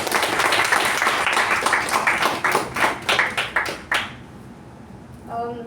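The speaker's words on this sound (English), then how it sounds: "a huge round of applause for them for their support" A Toastmasters meeting audience claps in a brisk round of applause that thins into a few separate claps before stopping, followed by a brief faint sound.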